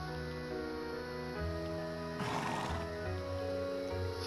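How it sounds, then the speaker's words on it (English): A horse in the video game Trails of Cold Steel II gives a rising whinny partway through, against quiet game music and ambience; no talking. "After brushing Arthur and giving him the care and adoration a horse could dream of"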